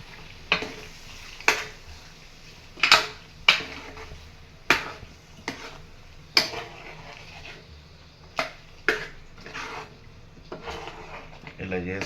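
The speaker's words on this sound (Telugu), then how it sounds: "అదంతా మళ్ళీ మన కర్రీలో వేసుకోవాలి. వేసుకొని తిప్పాలి. అదంతా మిక్స్ చేయాలి" A spoon stirs and mixes brinjal curry with peanut powder in a pan, giving sharp intermittent clacks and scrapes against the pan at irregular intervals over a low, steady background.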